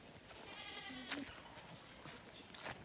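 A baby goat by the sea gives a faint, short bleat with a wavering tremble, heard once amid quiet background noise and a few soft clicks.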